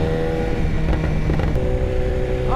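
BMW S1000RR sportbike with a full exhaust and no cap, engine droning at speed with a few sharp pops and crackles, close and loud, under wind rush.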